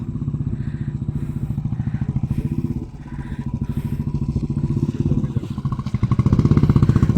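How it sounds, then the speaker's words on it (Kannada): Several motorbike engines rumble and strain steadily close by as they ride uphill, a continuous throaty drone that swells louder near the end. "ಮೇಲಕ್ಕೆ ಬರ್ತಾ ಇದ್ದಾರೆ ತುಂಬ ಜನ ಬೈಕ್ ಅವರೇ ಅಲ್ವಾ ಇರೋದು"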